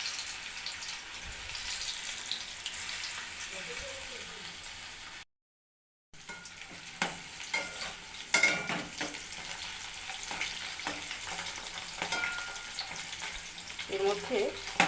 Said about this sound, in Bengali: এরপর এক এক করে আলুর খোসাগুলো ফ্রাই, একটু তেল বেশি লাগে।